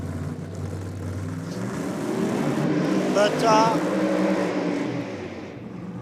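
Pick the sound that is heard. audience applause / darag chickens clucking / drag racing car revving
drag racing car revving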